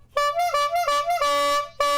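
A toy bike horn with a removable squeeze bulb honks in a series of loud, close, nasal toots, several short blasts and a few longer held ones with shifting pitch.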